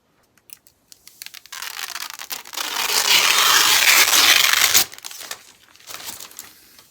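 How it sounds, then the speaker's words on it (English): Protective plastic film peeled off the inside glass panel of a computer case, a loud continuous crinkling tear lasting a few seconds, framed by soft handling clicks and rustles before and after, with no talk. "the plastic removal right now"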